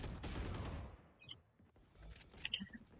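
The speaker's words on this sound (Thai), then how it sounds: "มันคือการวิ่งยิงยิงยิงนั่นเองครับ" Gunfire from a character running and shooting in Valorant, heard as a dense burst of shots over the first second, then quieter scattered sounds and a few sharp impacts near the end.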